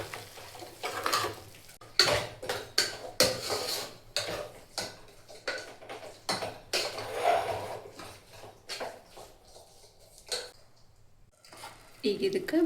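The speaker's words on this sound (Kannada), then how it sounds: "ಈಗ ಇದನ್ನು ಚೆನ್ನಾಗಿ ಮಿಕ್ಸ್ ಮಾಡ್ಕೊಳ್ಳೋಣ್ರಿ." A spoon knocks and scrapes against a metal pot in irregular clatters as sprouted horse gram sambar is stirred with ground masala, and a voice talks in between.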